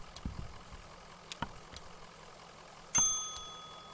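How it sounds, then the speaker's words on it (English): A single desk bell ding in Kentucky Route Zero rings out clearly near the end, its bright metallic tone decaying slowly over a quiet low hum with a few faint knocks before it. "Desk bell rings"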